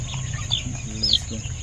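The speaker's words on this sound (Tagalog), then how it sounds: "Tandang pa naman, guys." A rooster in a pen, giving a few soft clucks and brief calls at close range, with quiet human talk in the background.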